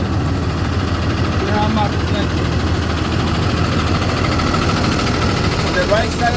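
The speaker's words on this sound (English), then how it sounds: "Now that the engine is running" A school bus engine idles with a steady low rumble that stays constant throughout, with a person talking over it.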